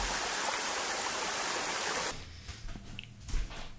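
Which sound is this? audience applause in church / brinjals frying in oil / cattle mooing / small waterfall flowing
small waterfall flowing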